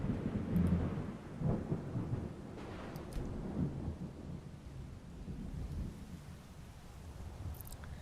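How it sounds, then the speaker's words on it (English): A video game thunderstorm with deep rolling thunder rumbles and steady rain hiss, loud at the start and then settling into a continuous low roar. "I need to set a tent up and wait out this storm because it's a little much for me"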